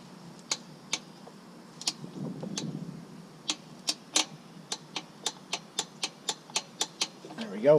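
A hand ratchet clicks in quick sharp ticks during a Duramax oil change, with scattered clicks at first and then a steady regular run of close, crisp ticks, plus a little soft rustling and handling noise.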